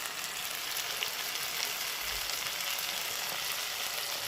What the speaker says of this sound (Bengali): টমেটোটা দিয়েও ভালো করে ভেজে নিয়েছি